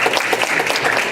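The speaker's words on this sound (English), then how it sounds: "Can we clap for him again?" Church audience at a Baptist gathering applauding a speaker after a Black History presentation, dense steady clapping from many hands filling the room, brief and even.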